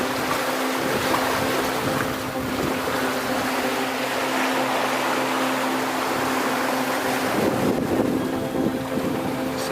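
A sailboat runs at sea in steady wind, with continuous loud wind buffeting and rushing water around the hull and a low mechanical hum underneath, no voices.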